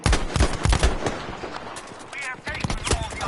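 Revolver gunfire in a competitive video game match, several sharp, loud shots in quick succession followed by a few clicking mechanical sounds, with faint talk in the background.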